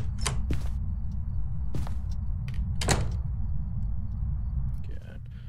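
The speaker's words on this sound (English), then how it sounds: "This is the Yure's door slam ability. Notice the double door touch sound and how it goes completely closed." A ghost in the video game Phasmophobia, a Yurei, slams a door shut, giving sharp knocking thuds including a double touch before it closes fully, heard over a constant low in-game hum.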